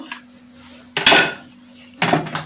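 Coconut is grated by hand in a few sharp, scraping bursts about a second apart, close by, over a faint steady hum.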